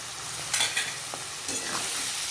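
Peas being stirred into vegetable fried rice in a pan: a steady sizzle with a few quick scraping stirs, close and fairly loud, with no talking.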